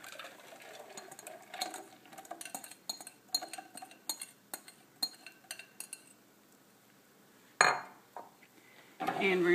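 A whisk clinks repeatedly against a metal pot while eggs and milk are stirred together for a soufflé, in quick uneven bursts of scraping and tapping, followed by a louder clatter and a brief thump near the end.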